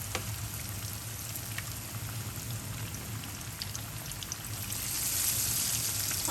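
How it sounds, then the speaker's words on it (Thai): Steady, dense sizzling of battered pork pieces frying in hot oil in a small pan, crackling continuously up close, swelling slightly louder near the end. "นำลงทอดเลยค่ะ"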